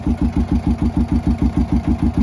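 A 2011 Kawasaki Mule 610 XC utility vehicle engine idles with a fast, even chugging pulse, loud and close, running steadily without change, after an oil leak repair.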